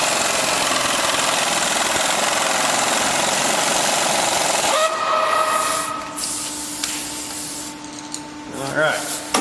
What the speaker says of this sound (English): it sure is a whole lot easier with an impact wrench